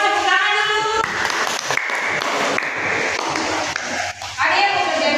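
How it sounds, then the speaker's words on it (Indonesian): A classroom of students claps together in a steady, dense burst of applause, loud and close, with a voice speaking over the start and end. "Semua tepuk tangan dulu."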